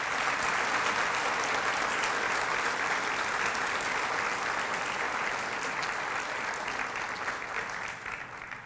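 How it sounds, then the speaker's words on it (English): Applause fills a college convocation hall, a steady, dense wash of many hands clapping at moderate distance that holds evenly and tapers slightly at the end, with no speech over it. "Let's have a round of applause for our newest colleagues."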